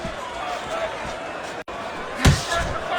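Punches landing in a Tyson vs Foreman boxing video game: a sharp, heavy slam stands out over a constant roar of crowd and commentary noise, with a steady busy background throughout.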